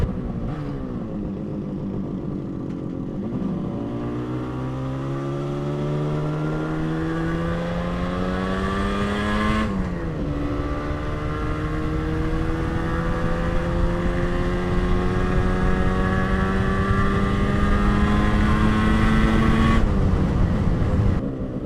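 A 1980 Moto Guzzi 250 TS motorcycle rides past at speed, its engine note climbing steadily through each gear then dropping sharply at two shifts, loud and continuous with no talk.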